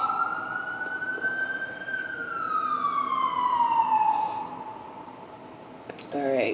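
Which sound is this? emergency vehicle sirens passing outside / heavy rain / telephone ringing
emergency vehicle sirens passing outside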